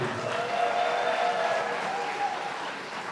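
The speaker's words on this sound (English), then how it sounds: "one more big round of applause for them" Wedding guests at a walima at Whites Ferry Manor applauding the groom's parents, a steady wash of clapping across a large room with a faint sustained tone underneath.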